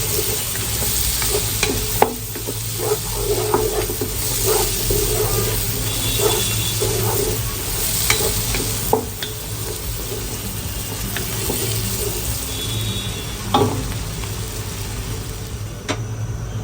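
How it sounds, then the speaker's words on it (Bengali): Raw jackfruit masala cooks slowly in oil in a pan, with a steady low sizzle and frequent knocks and scrapes of a spoon stirring, close and unhurried, with no voices. "ধীরে ধীরে কষাতে হবে, তাড়াহুড়া করা যাবে না"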